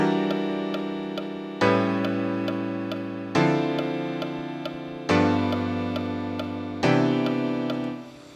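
A chord progression that includes a half-diminished chord, five sustained piano-like chords struck one after another every couple of seconds, each ringing and slowly fading, with no talking.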